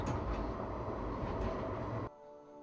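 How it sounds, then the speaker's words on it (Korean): A tram departs on a test run, rumbling and rolling close by with a steady low mechanical roar, then the sound cuts off abruptly near the end. "상태 점검을 마치고 출발하는 트램"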